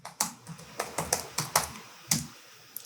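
Typing on a computer keyboard: a run of about ten crisp, close key clicks in an uneven rhythm, fairly quiet and with no talk over them.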